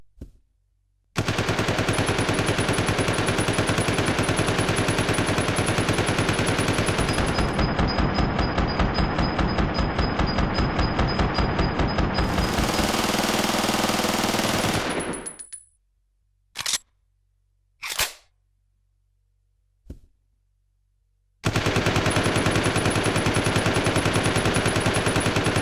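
Rapid automatic weapon fire from a Resident Evil Zero HD Remaster game, a dense unbroken burst lasting about fifteen seconds that cuts off, followed by a few short isolated shots and a final sustained burst, loud and close with no talk.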